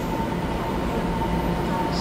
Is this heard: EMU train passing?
yes